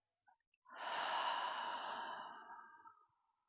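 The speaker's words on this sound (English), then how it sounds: "And a long, slow exhale through the mouth." A long, slow exhale through the mouth during a gentle yoga session, a single soft, breathy sigh that swells and then fades gradually over about two and a half seconds, close and quiet with no talking.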